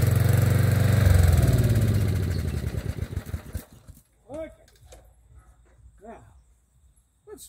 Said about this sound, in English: Get this modified flat tray mower out of the way.